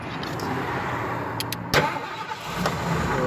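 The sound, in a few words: 1988 Ford Econoline van engine starting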